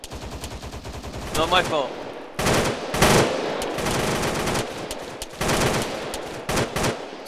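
Rapid gunfire rattles in Arma 3, with a run of close shots followed by louder automatic bursts and pauses between, while someone speaks briefly.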